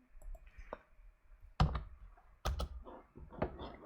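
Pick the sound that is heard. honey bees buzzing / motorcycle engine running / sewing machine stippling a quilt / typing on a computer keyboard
typing on a computer keyboard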